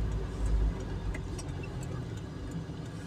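A car rolls slowly through the quiet, empty streets of a small Polish mountain town, Krościenko nad Dunajcem, turning toward the market square; a steady low engine and road rumble runs throughout, swelling briefly near the start.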